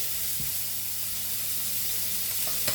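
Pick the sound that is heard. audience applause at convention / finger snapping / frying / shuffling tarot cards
frying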